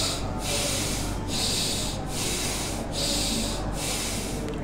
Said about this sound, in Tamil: நல்லா மூச்சை உள்ளெடுத்து மூச்சை வெளியே விடுங்க மூன்று முறை.